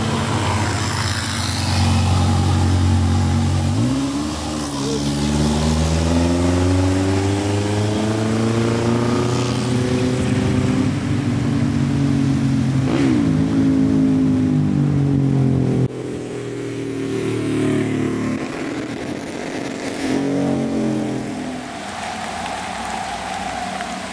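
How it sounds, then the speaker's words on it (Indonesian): A box truck labouring on the Endikat mountain road in Indonesia, its loud engine rising and falling in pitch in long sweeps, with heavy braking noise mixed in and no talking. "Terdengar brake-nya sangat keras sekali dari arah atas."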